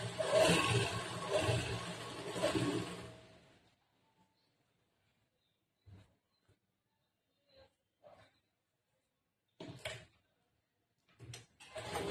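A sewing machine runs a double stitch on a blouse side panel, whirring steadily up close for about three seconds, then stopping, followed by quiet with a few small handling clicks.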